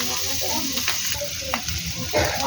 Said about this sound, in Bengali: ভালো করে নাড়াচাড়া করবো।